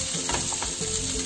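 Onions frying in a pan for masala macaroni pasta, a brief, continuous close sizzle with a soft stir in the middle, no speech.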